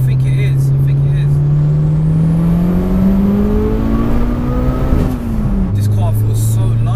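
A 720 bhp Mitsubishi Evo VII accelerates hard from inside the car. The loud engine note rises steadily through the rev range, then drops briefly at a gear change, with people talking over it.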